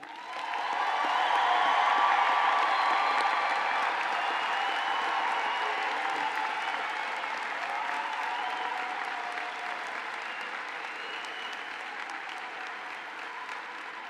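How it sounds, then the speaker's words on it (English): A large commencement audience at an engineering college graduation applauds graduates in a broad, even wash of clapping with faint cheers, heard from a distance and slowly fading over about fourteen seconds. "Let's give our graduates another round of applause"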